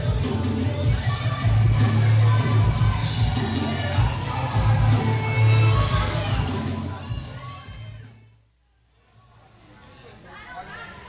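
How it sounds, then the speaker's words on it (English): A wrestling event crowd murmurs and shouts in a steady, loud roar beneath a ring announcer's amplified voice, fading abruptly into near silence before picking up again more quietly. "The crowd doesn't seem all that thrilled to see Sierra, but Sierra doesn't seem all that thrilled to see the crowd either"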